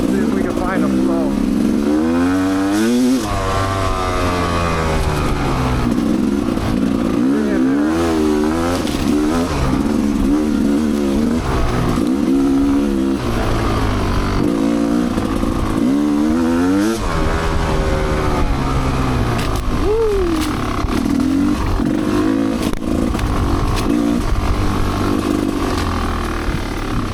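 An off-road motorcycle rides an ORV trail, its engine droning loud and steady throughout, rising and falling in pitch as the rider shifts and twists the throttle, with wind rushing past.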